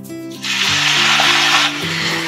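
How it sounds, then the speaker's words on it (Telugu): Washed mint leaves dropped into hot oil, setting off a sudden loud, steady sizzle up close that eases slightly near the end, with a faint tonal hum underneath. "ఇందులో కొంచెం నూనె వేసుకొని కడిగి పెట్టుకున్న పుదీనా"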